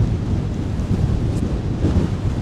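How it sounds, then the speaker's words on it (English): A strong gust of wind sweeps across a snowy airport, a loud, low, buffeting roar that blasts the microphone continuously for a couple of seconds. "that's probably the biggest gust of the day"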